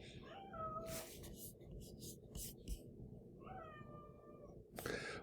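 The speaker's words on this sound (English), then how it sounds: "I have a very whiny cat in the background" A whiny house cat meowing repeatedly, begging to go outside, with several drawn-out plaintive cries over a quiet background and faint speech.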